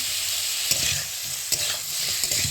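Mushrooms sautéing in a pan with boiled potato and Malabar spinach stems, a steady sizzle broken by a few sharp scrapes and stirs of a spatula, with no talking.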